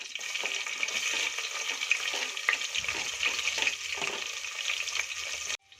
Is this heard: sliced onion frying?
yes